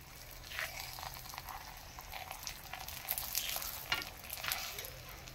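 Petai paratha frying in hot oil, puffing up as it cooks: a soft, steady sizzle and crackle with light stirring scrapes, fairly quiet and continuous throughout, with no talking.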